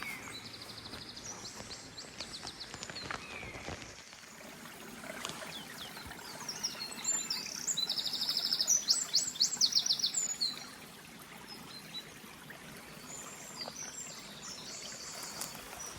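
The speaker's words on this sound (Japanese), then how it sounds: "水音と 鳥の声だけの 世界です" Birds chirp and trill in short bursts over the soft, continuous rush of flowing water at the source of the Seine, with a busier flurry of calls in the middle.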